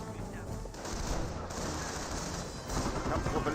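Dense gunfire from a World War II squad battle in the strategy game Company of Heroes, a steady crackling fusillade of rifles and machine guns that runs for several seconds at moderate distance with a caster talking over it.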